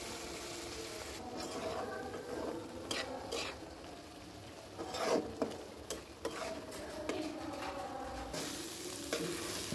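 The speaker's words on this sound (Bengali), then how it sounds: "এখন মশলাটা খুব ভালোভাবে কষিয়ে নিব" Soaked spice paste being stir-fried for a dried fish dish gives a soft, low sizzle broken by repeated scraping strokes of a spatula in the pan.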